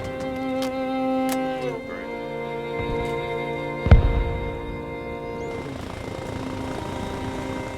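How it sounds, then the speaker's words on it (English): A helicopter's steady rotor drone and whine fill the scene in the video game Arma Reforger, with a sharp thud midway; synthetic game-like tones hover over the continuous engine hum. "Yo, Toxie, you want to get this helicopter and go get healed up?"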